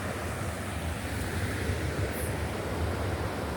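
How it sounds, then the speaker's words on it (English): A jungle river rushes past in a steady, broadband wash of flowing water, constant and moderately loud with no voices. "As you can see, here's the river"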